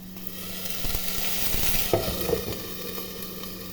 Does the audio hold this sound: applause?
no